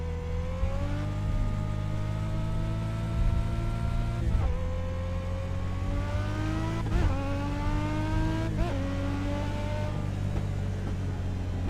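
A race car at New Smyrna runs a lap, its engine droning and rising in pitch through the gears, with sharp dips at each shift and lift-off, loud and constant from onboard.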